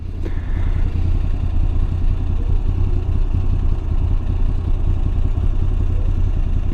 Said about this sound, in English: as you can see at idle, this thing has a lot of character. It's shaking, it's rumbling.